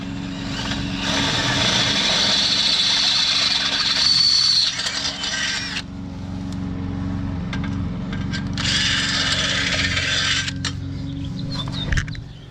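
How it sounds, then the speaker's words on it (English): A half-inch bit drills through a steel winch bumper and the vehicle frame during an offroad bumper install. It makes two sustained, loud grinding bursts separated by a pause, over a steady low hum. "But watch as we drill a hole through there."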